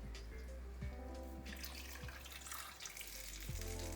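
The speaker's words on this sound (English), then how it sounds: "I'm just going to bring it all together with some water." Water is poured into a pot of chicken adobo cooking on the stove, a faint steady splashing stream over a low background hum, with a few soft clinks.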